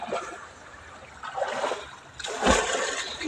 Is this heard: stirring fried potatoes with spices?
no